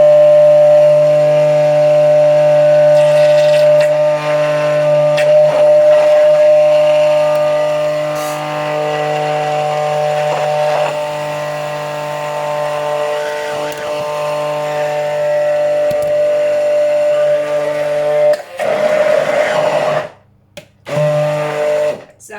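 A blender whizzes homemade mayonnaise with a loud, sustained motor whine that shifts pitch as the mix thickens, then cuts off in short stops near the end.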